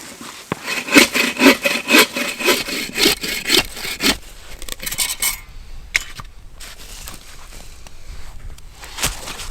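Hand saw cutting through wood outdoors in a snowy forest camp, a steady run of close, rhythmic rasping strokes for about five seconds, then scattered scraping and knocks at lower level.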